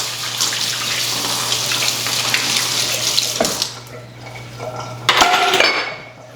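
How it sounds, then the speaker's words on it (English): Dishes clatter in a kitchen sink under running tap water, steady and close for several seconds, then a louder burst of clinking near the end; no talk. "I'm leaving the dishes in my sink"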